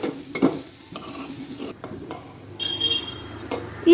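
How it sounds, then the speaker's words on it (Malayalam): Broken wheat roasting in ghee until brown gives a low sizzle, broken by the irregular scrape and clink of a spoon stirring against the pan, with a brief voice near the start. "ചെറുതായിട്ടൊരു ബ്രൗൺ കളർ ആവുന്നത് വരെ നമുക്ക് ഇതൊന്ന് വറുത്തെടുക്കാം"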